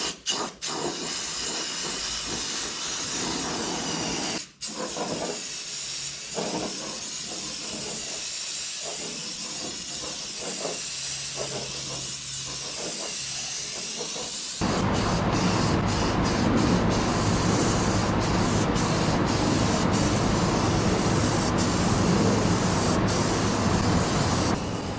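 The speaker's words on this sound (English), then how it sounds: "And now we paint." Spray gun laying paint over a roughed-up panel during a refinish, a steady close hiss with brief breaks in the first half, then a louder, denser continuous spray with short interruptions in the second half.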